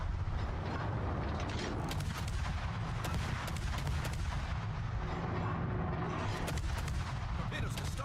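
Heavy naval artillery and gunfire from warships in the World of Warships video game, a dense run of booming shots and rapid fire that carries on without a break, with faint game noise mixed in.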